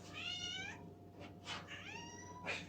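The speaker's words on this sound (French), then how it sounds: "Elle miaule tout le temps." A cat meows repeatedly up close, with two drawn-out, wavering meows separated by shorter, breathy chirps and cries.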